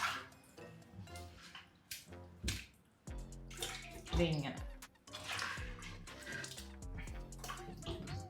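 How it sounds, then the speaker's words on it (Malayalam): Raw chicken being rinsed in vinegar water, with splashing and sloshing in a basin through most of the stretch as a person talks over it, for a chicken biryani. "ഇനി നമുക്ക് വിനാഗിരി ഒഴിച്ചിട്ട് ഒന്ന് കഴുകാം"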